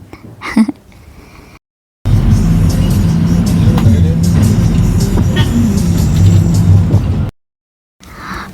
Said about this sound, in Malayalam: ബസ്സിൽ കുറേ ദിവസത്തിന് ശേഷമാണ് ഞാൻ യാത്ര ചെയ്യുന്നത്